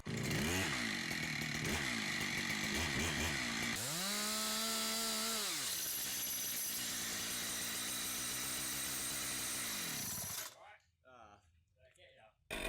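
A chainsaw cuts a giant sycamore while its chain keeps being thrown, revving loud and close in rising and falling whines and holding a steady buzz before cutting out, leaving quieter scattered sounds.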